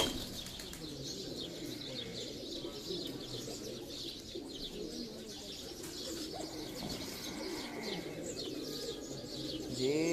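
Pigeons on a rooftop at a pigeon-flying tournament, cooing repeatedly with bursts of wing flapping and chirps, close and moderately loud, with faint talk in the background.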